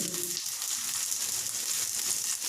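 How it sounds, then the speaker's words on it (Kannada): Dried red chillies and tomato frying in a pan make a steady, close hiss of sizzling oil throughout the short stretch, without talk. "ಟೊಮೆಟೊ ಒಣಮೆಣಸಿನ್ಕಾಯಿ ಇದನ್ನು ಹಾಕ್ಕೊಂಡು ಸ್ವಲ್ಪ ಹುರ್ಕೊಳ್ಳಿ ಲೈಟಾಗಿ"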